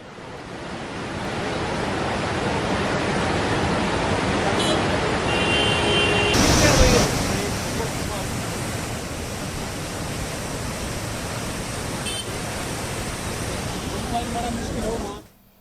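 The Tungabhadra River in flood, swollen by heavy rain, sends up a dense, continuous roar of rushing water, loud and broadband, steady for about fifteen seconds with a slight shift midway before cutting off at the end.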